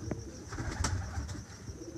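Salaray Taddy pigeons give faint, low, rolling coos close by in a quiet space, with a few soft higher bird notes mixed in and no speech.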